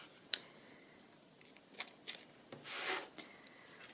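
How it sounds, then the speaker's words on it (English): Quiet, scattered snips and rubbing from scissors trimming the edge of a handmade spring journal cover, a few sharp cuts and a short scraping stretch, close and faint. "I will trim off the edge a bit."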